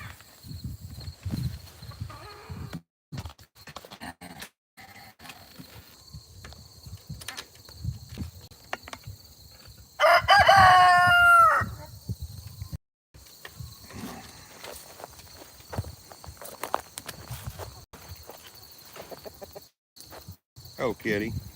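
Backyard chickens and a rooster on a farm: a loud rooster crow rises briefly midway, surrounded by scattered soft clucks, insect chirps and rustling, while a person talks quietly at times.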